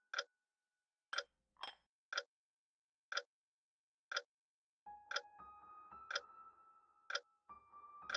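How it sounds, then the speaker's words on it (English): Sharp, evenly spaced clock ticks about once per second sound in an RPG Maker horror video game, with faint tones and a low hum joining in toward the end. "that clock won't stop ticking"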